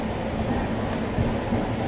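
The Sabari SF Express rumbles into platform 1 at Guntur Junction, a steady low rolling train noise heard from on board, close and continuous.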